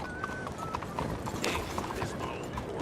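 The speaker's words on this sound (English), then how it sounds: "This my old horse." Horse hooves clip-clop steadily on the ground in Red Dead Redemption 2, with a brief whinny and a faint whistle-like tone over a busy ambient bed; a voice talks now and then.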